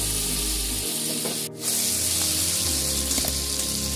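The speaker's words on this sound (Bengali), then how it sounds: "এবার এটা 3-4 মিনিট ভালো করে ভেজে নেব" Salted spices and turmeric frying in a pan for a fish curry, a steady close sizzle with a brief dip in the middle and faint stirring, no talk.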